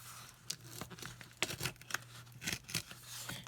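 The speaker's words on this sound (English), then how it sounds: "I think I'm going to tear out the whole entire page." Paper sticker page being torn out of a Classic Happy Planner, a series of short ripping and crinkling bursts, close and quiet, with no talking.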